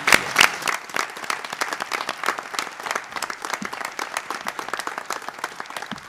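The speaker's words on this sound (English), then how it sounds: "so we can give you a round of applause?" A board meeting audience gives a sustained round of applause for a departing member, dense even clapping filling the room for several seconds with a slight swell near the start.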